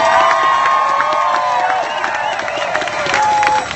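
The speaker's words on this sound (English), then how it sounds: "Let's give a round of applause for those that organized this rally" Outdoor rally crowd for the Illinois State Museum clapping and cheering together, a steady roar of hands and voices with a few higher whoops and tonal sounds drifting over it.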